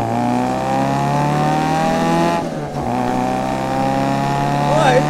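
A 1960 Austin-Healey Sprite Bugeye with a rebuilt 1275 engine in place of its original 948, heard from inside on a ride, its engine droning steadily and loudly with a rising pitch as it accelerates and a brief dip midway.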